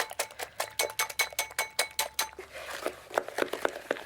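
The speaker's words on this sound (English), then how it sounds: "I needed a whisk to whisk egg whites" A homemade frontier-style whisk beats egg whites in a bowl with a fast, even rhythm of clinking strokes that speeds up and turns looser near the end, close and fairly quiet.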